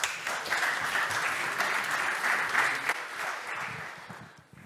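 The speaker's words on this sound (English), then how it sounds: "Big round of applause, please." Audience applause at a tech conference (AWE 2023) welcoming a presenter to the stage, a steady wash of clapping from a sizeable crowd that gradually thins and fades near the end.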